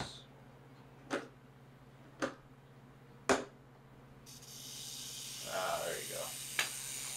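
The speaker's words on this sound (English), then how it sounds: "The rattle's a little bit dull sounding" A rattlesnake shakes its tail into a dull, dry rattle. A few sharp taps come first, then a steady hissing buzz that holds for several seconds at moderate loudness.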